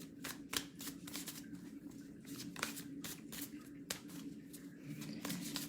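Oracle cards shuffled by hand during a tarot-style reading, giving a continuous papery riffle with crisp snaps at irregular intervals, close and moderately quiet over a low steady hum.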